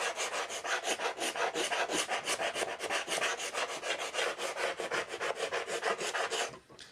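Hand scraper rasping old finish off a wooden steamer trunk, a steady rhythm of close, loud back-and-forth strokes running nearly seven seconds before stopping abruptly.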